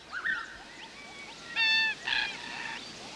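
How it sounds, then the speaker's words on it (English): Cockatoos give harsh, honking squawks in short bursts, a few separate calls rising over faint background ambience, with one louder call near the middle. "Just ordinary cockatoos."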